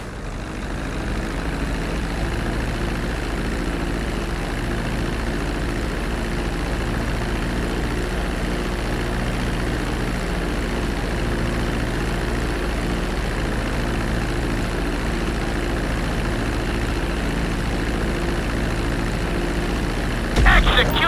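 Jet airliner engines in GTA 5 whine at a steady low idle while the plane lands and taxis, a continuous heavy drone that holds level and swells briefly near the end.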